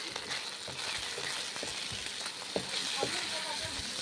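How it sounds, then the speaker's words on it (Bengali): Soaked leftover rice fries in a pan, making a soft, steady crackling sizzle at low volume with a few faint taps. "ভিজে ভাত ভাজা রেসিপি রান্না করে নিচ্ছি।"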